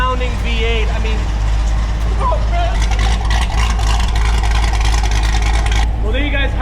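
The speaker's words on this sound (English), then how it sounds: "quick vlog style first impression drive of a cammed bolt-on C6 Grand Sport" A cammed, bolt-on C6 Corvette Grand Sport V8 driving, a loud steady engine drone with throttle changes throughout, heard from inside the car while a person talks over it.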